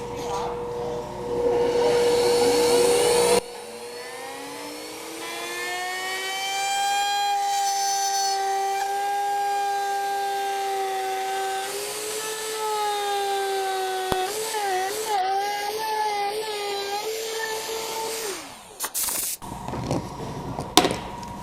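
A handheld router with a bearing bit trims wood along an acrylic template, a sustained high whine that rises as the motor spins up, steadies, wavers under cutting load and then spins down.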